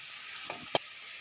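Sweet potato ongol-ongol with chocolate milk filling frying in oil, giving a steady, soft sizzling hiss with a couple of small crackling pops.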